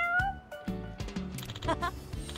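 A cat in the video game Like a Dragon: Pirate Yakuza gives a few short, clear meows over a soft musical game background, close and moderately loud, with no one talking.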